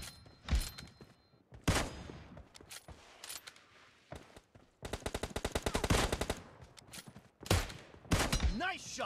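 Gunfire in PUBG Mobile Lite during a team deathmatch: single loud shots early on, then a long rapid automatic burst of evenly spaced rounds, followed by more close, punchy shots.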